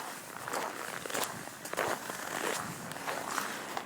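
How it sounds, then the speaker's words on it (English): Footsteps crunch steadily on very cold, frozen snow during a walk to school, each close, crisp step landing in an even rhythm with no voices. "That crunchy snow."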